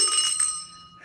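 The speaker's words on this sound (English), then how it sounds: "We ring a bell when you're new." A bicycle-style bell rings bright and clear at the start, then its metallic tone fades away over about half a second; it is the bell rung to greet a newcomer at a live show.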